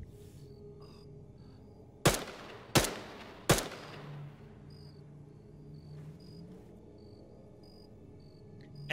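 Three sharp rifle shots ring out in Arma 3 on the jungle island of Tanoa, spaced under a second apart and each trailing a short echo, over a constant chirp of crickets and insects.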